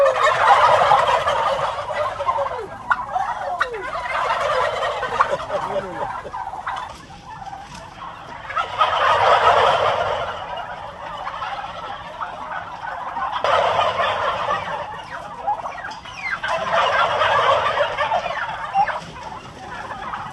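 Bursts of turkey gobbling rise and fall repeatedly, several 170-day-old farm turkeys calling together in waves, loud and near.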